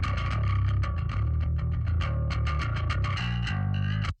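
A distorted bass guitar tone with boosted gnarly mid-range around 800 Hz, treble and master turned all the way up but bass kept moderate, played as a loud, driving riff of repeated punchy notes that cuts off abruptly at the end.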